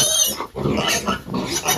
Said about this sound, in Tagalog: Ito po guys ang ating biik.